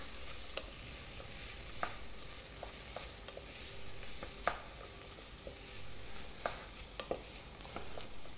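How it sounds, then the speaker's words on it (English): Shallots sweating in melted butter in a pan: a steady, fairly quiet sizzle with occasional light clicks and scrapes of stirring. "we're going to pop our shallots in first and just quickly sweat them off for a second in the pan with that butter"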